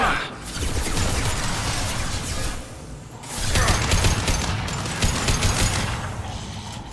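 Rapid automatic gunfire in the video game Mass Effect 2 during combat, loud sustained bursts with a short pause midway before firing resumes, accompanied by mechanical weapon clatter.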